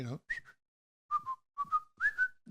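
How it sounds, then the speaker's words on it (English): A short, bright whistled melody of a few rising and falling notes, close and clear, separated by brief pauses. "And then I just added a whistle"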